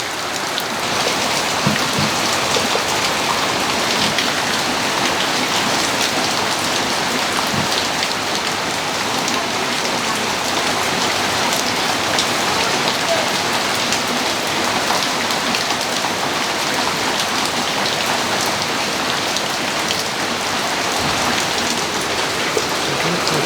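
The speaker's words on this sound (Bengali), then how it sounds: "বৃষ্টির পানি" Heavy rain pours steadily on a village, a dense, even hiss of drops hitting surfaces that carries on without a break and with no voices.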